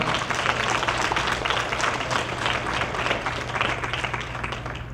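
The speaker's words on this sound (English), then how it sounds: "should give yourselves a big stinking round of applause" A roomful of people applaud at a talk, a dense, even round of clapping sustained throughout, with a low steady hum beneath it.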